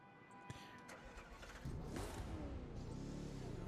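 A BMW M6 GT3 race car engine in the video game The Crew 2, a steady mid-pitched roar that swells louder and fuller about halfway through and holds there, continuous with no talk.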